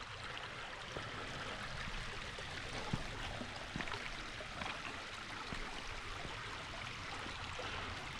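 Barbary Creek flowing steadily at a trail crossing in Alabama, a continuous broadband rush and trickle of water, close and even throughout with no talking.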